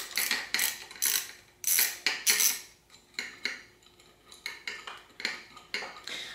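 Repeated metallic ratcheting clicks as a wrench loosens a tight part low inside a RockShox Quadra 21R bicycle suspension fork, coming in close bursts with short pauses, no talking.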